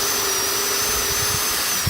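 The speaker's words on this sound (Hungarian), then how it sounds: "Előbb előfúrok akkor a 4-essel a" A power drill with a 4 mm bit pre-drilling into EPP foam board (Styromen Extra 1500), giving a steady, continuous high whine, close and fairly loud throughout.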